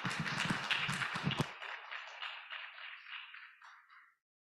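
A forum audience applauds to welcome a guest professor, a dense burst of clapping that thins into scattered claps and fades out after about four seconds.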